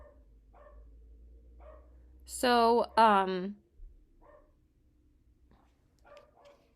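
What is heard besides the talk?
dogs barking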